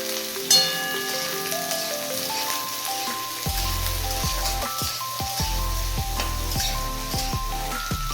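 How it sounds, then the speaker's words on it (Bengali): Chopped onions fry in hot oil in a wok, giving a steady close sizzle that continues throughout, with a sharp hiss at the start as they hit the oil and background music playing underneath. "তেলের মধ্যে কুচিয়ে রাখা পেঁয়াজগুলো ছেড়ে ভাজতে লাগবো।"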